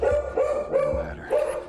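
A dog in the video game The Last of Us Remastered barks three or four times in quick succession, close and loud, each bark sharp with a slight yelp.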